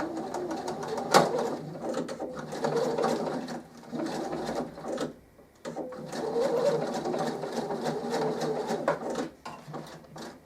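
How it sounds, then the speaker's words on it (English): A sewing machine top stitches a fabric zipped pouch with French seams, whirring in steady rapid runs with short pauses between them, close and fairly quiet. "just going to top stitch that just to keep it in place"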